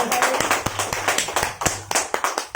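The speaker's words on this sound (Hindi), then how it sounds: "उनके लिए जोरदार हाथ ताली होना चाहिए" An audience claps for a teacher at a women's empowerment event, loud, distinct hand claps in a loose, uneven rhythm close by, with a little background chatter.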